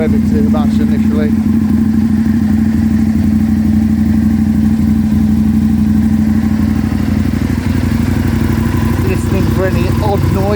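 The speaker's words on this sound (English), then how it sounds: "Engine's sounding really good and smooth." An Aprilia Tuono 1000R motorcycle from 2007 runs steadily after a cold winter start, a close, even mid-pitched engine drone with slight clatter, and someone talks over it throughout.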